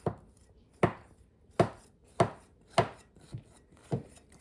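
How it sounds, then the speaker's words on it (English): A knife cuts a lemon pudding cake made from box mix into squares. Each stroke lands as a soft chop on the board, in a steady rhythm of about seven cuts, close and clear. "So what we do now is we take our knife and we just cut it in squares."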